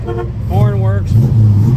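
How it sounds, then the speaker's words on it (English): Short honks from the horn of a 1967 Plymouth GTX, two brief tones followed by a longer steady blast, close and loud, with the engine idling underneath. "horn works."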